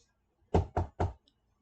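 Three firm knocks in quick succession on a hard surface, close and clear against near silence, evenly spaced about a quarter second apart.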